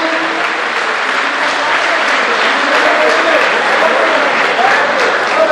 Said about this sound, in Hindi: जोरदार तालियों के साथ स्वागत अभिनंदन।